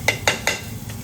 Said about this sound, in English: So after I add my oil's quite hot, just about a teaspoon of garlic ginger paste. You want it to brown a little bit